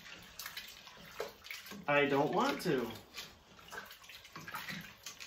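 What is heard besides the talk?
homemade broth being poured into a pot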